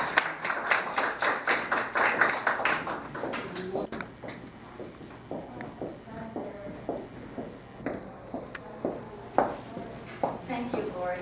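Audience applause welcomes someone speaker to the lectern at a university presentation on women's rights history, steady clapping for about four seconds, then fading into scattered claps and room noise as someone begins talking.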